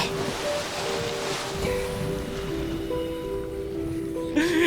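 Ocean water and rolling waves in the video game Subnautica make a steady, loud surf wash with a windy rush, and a soft splash comes near the end.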